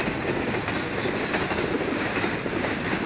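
A CSX westbound freight train rumbles past steadily with a broad, continuous roar and faint rhythmic clatter of wheels on rails, close and loud throughout, a Norfolk Southern locomotive trailing.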